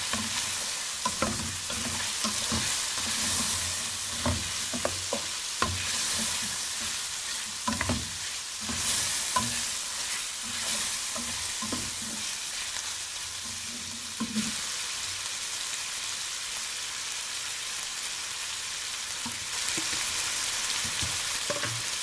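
Beef karahi with red chilli being stirred in a pan, a steady frying sizzle under repeated scraping and stirring strokes close by, with no talk.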